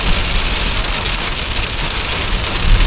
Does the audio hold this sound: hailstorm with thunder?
yes